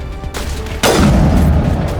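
Sniper rifle fire in the sci-fi shooter Mass Effect Legendary Edition, a loud booming shot that bursts in sharply near the start, with its blast and rumble sustained to the end, set against game ambience and effects.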